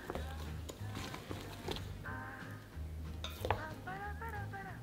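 Spoon stirring shrimp batter of egg white and cold soda in a bowl, soft wet scraping and occasional clinks against the dish, close and quiet with a low background hum.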